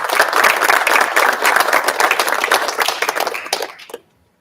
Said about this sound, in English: Students, please give your teachers and family members a round of applause.